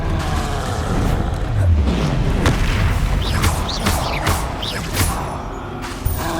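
Spellcasting in the Hogwarts Legacy video game, with a disarming spell fired amid booming impacts, whooshes and creaking mechanical effects, loud and dense throughout with no voices.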